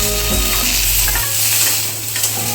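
A prawn curry base with chopped tomato and turmeric sizzles loudly in a pan while a utensil stirs and scrapes, a steady close frying hiss throughout.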